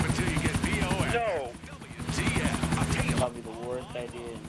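Helicopter in the video game GTA IV, a steady rapid rotor chop throbbing loudly and continuously, with people talking over it.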